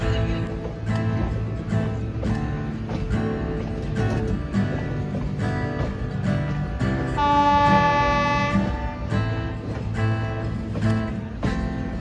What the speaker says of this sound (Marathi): फायनली ट्रेन चालू झालेल्याने